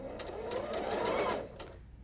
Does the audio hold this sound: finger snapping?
no